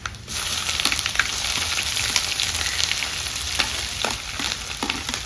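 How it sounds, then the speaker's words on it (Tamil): Fenugreek seeds and onion vadagam crackling in hot oil for a village-style prawn gravy, a dense, steady sizzle with scattered pops up close. "நல்லா வெந்தயம் படபடன்னு பொரிய விட்டு, இது வந்து வெங்காய வடகம்"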